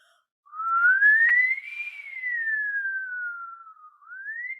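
A single person whistles one long, clear tone that slowly rises, falls and then lifts again, close and steady with no other sounds.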